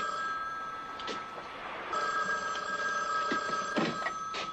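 A telephone ringing indoors, a steady electronic ring with a high tonal pulse, repeating and fairly loud, with no talk over it.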